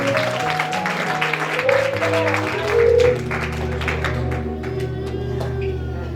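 A church congregation claps at a pastoral anniversary service, with a crisp rapid patter over sustained musical tones that thins out partway through while the tones carry on.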